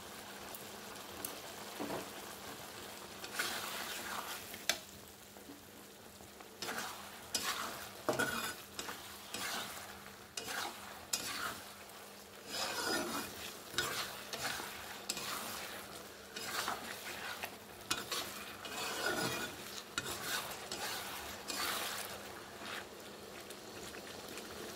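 Chilli chicken frying and being stirred in a pan with soy sauce and turmeric, a steady sizzle broken by repeated scraping stirs for the whole stretch.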